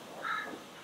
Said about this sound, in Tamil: அங்கே வந்து அழகான ஒரு குருவி கத்திக்கிட்டு இருக்கு